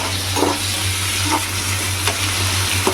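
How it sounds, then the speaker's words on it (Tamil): Onions and tomatoes sautéing in a pan for home-style idli sambar, a steady sizzle and frying hiss with a spoon stirring and scraping a few times, close and alone with no talk. "அதோட வெங்காயம் போட்டுக்கலாம் தக்காளியும் போட்டுக்கலாம் நல்லா வதங்கிட்டு"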